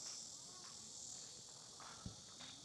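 A cicada sings in a willow tree at Gyeongbokgung Palace in Seoul, a faint, steady high buzz with a few soft thumps nearby.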